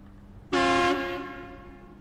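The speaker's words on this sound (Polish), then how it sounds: "Zobaczmy klakson." A ZiKZ 612H Mastodon eight-wheel off-road truck in SnowRunner sounds its horn once, a loud brassy blast lasting under half a second that then fades away.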